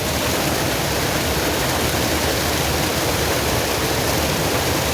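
Water from a lake rushes continuously, a loud, dense, unbroken roar of flowing water with no pauses.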